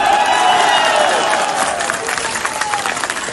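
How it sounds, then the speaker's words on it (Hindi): Large crowd clapping and cheering at a political rally in Punjab, a dense, loud wash of applause that carries steadily and thins slightly toward the end. "लगाओ ना ताली"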